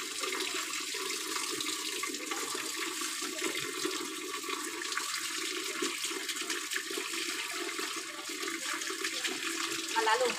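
Steady running water splashing and gushing throughout while a dog is bathed, a continuous broadband wash with faint voices in the background.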